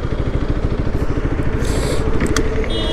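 A motorcycle engine runs loudly and steadily up close, with a rough, pulsing low rumble and occasional crackles and scrapes, heard on its own with no speech.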